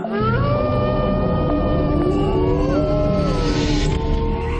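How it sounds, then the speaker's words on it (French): Wolves howl at night in the Sainte-Croix wildlife park, several long, wavering voices overlapping in a loud, sustained chorus with no talking. "un loup qui ressent une émotion intense va se mettre à hurler, les autres vont l'imiter"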